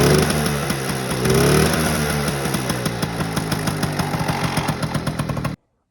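A Honda Motocompo scooter's small engine runs nearby, a buzzy steady putter with a rev swell early on, then even rhythmic firing until it cuts off abruptly.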